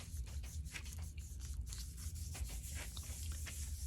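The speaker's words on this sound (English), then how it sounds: "I want to rub enough to get down in between those spaces on the stencil so I can pick up the paint" A hand rubs acrylic paint over a stencil laid on a Gelli printing plate, producing a close, continuous scratchy scrubbing with quick repeated strokes.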